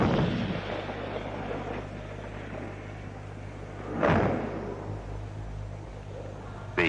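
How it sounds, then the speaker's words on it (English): A 105mm tank gun fired from an M60 main battle tank: a sharp, heavy report lands midway over a low steady hum, with a fainter thud earlier and another crack right at the end. "The 105mm tank gun fired from an M60 main battle tank."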